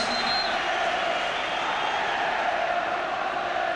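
A huge football crowd of nearly 60,000 fills Celtic Park for an Old Firm match between Celtic and Rangers, its dense roar holding steady and loud from start to finish.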